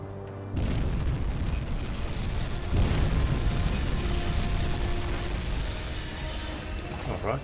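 Torpedo hits exploding against an Empire cargo ship in the submarine game UBOAT, leaving the ship with a massive fire aboard; a sudden boom gives way to a steady, roaring rumble and crackle that lasts several seconds, with no talk.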